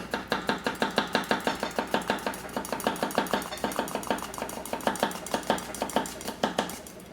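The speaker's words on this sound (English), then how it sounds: "Do a little bit of chopping with the tip." A Sakai Takayuki Damascus gyuto knife chops near its tip on a cutting board, a rapid, even series of crisp taps, around three per second, close and clear.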